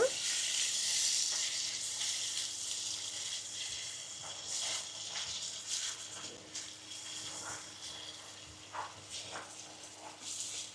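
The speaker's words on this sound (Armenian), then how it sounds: "Թողնում ենք մի քիչ էլ այս ձև տապակվի" Spiced minced meat for Armenian tolma frying in a pan, giving a soft, steady sizzle with occasional louder crackles and stirring sounds, heard close and alone.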